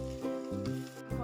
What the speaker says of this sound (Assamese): এনেদৰে মই 15 মিনিটমান সময় ভাজিম।